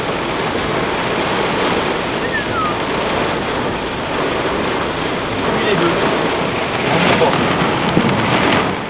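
Heavy rain pours steadily in a dense, continuous wash, with a low rumble of thunder beneath it and no voices.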